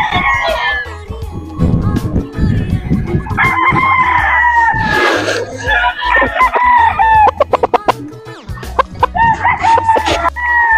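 A sweater gamefowl rooster crows repeatedly at a gamefarm, loud and close, with clucking and other fowl noises between the crows and no voices.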